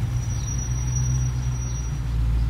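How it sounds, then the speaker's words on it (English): A thin, high-pitched squeal from four-piston Brembo brakes on a Dodge Scat Pack or SRT rings over a low rumbling vehicle as it rolls to a stop. "that four-piston Brembo brake squeal"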